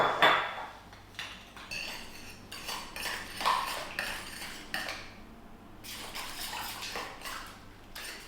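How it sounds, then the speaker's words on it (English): A utensil stirs homemade liquid hand soap made from grated soap bars, scraping and clinking against the container in repeated strokes. The sound is close and fairly loud, with no talk over it. "So now basically I just want to give it one last stir"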